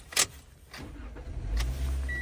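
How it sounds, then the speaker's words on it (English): A car engine turns over with a brief starter whir and settles into a low, steady idle, heard close inside the vehicle after a short click near the start. "Now just use the second key to start"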